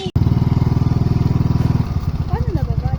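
A motorcycle engine runs close by with a loud, rapid pulsing chug that briefly settles into a rougher, slower idle, while people talk over it.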